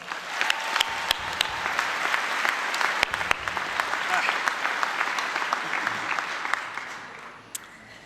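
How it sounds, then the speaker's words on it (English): Graduation crowd at a 2016 commencement ceremony applauds the graduating class, a full, steady wave of clapping with sharp individual claps standing out, fading slightly at the end. "So please, give them a big applause."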